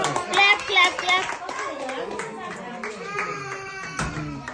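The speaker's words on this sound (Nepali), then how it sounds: "Tali Tali clap clap clap" Children clap their hands amid a jumble of young voices speaking and chattering, the claps scattered and uneven through a lively, close indoor-sounding scene, during a Nepali poem for mum.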